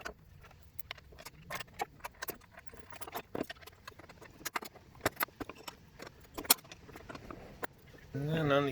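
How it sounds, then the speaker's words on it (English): Bolting a winch down onto a wooden archery draw board: a steady run of close metallic clinks, taps and ratcheting clicks from hardware and tools, with a brief louder rattle at the end. "So we're going to bolt this winch down to it."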